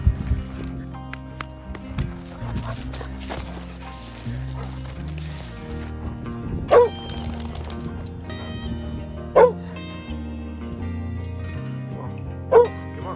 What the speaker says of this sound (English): Look at this dog. This dog is not sick at all.